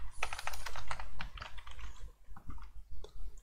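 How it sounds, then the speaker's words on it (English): Quick, light tapping of keys on a computer keyboard, a dense run of close clicks that slows into scattered presses toward the end. "We tap it here and we type something."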